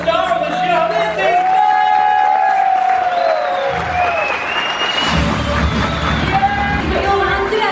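A cruise ship theatre audience cheers for the show's star, with loud sustained applause, whoops and yells filling the room while an amplified voice speaks over the crowd.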